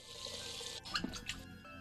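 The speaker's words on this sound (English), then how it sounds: "I can turn the water on." Water tap in a VR game, Dyschronia, running briefly: a steady hiss of running water for most of the clip, with a few brighter splashing bursts near the middle and no talk.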